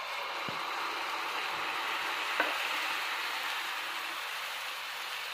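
Suji uttapam batter on an oiled hot pan hisses with a soft, steady sizzle, faint and close, with a couple of small clicks.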